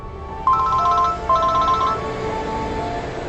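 A telephone rings in two clear electronic bursts over a steady indoor room hum, the second ring a little shorter, with no one speaking.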